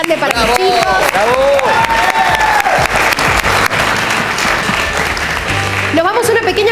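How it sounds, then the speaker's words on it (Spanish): A studio audience on a Sunday variety show applauds and cheers for a group of kids, loud sustained clapping mixed with shouts and whoops, and a host's voice rising over the crowd near the start. "Un aplauso muy grande para los chicos."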